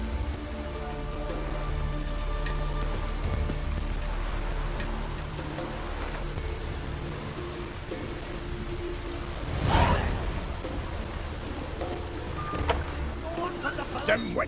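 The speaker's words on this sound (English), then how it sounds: "Looks like rain." Steady patter of rain in The Witcher 3: Wild Hunt fills the scene as a continuous hiss, with a brief whooshing swell midway and faint voices underneath.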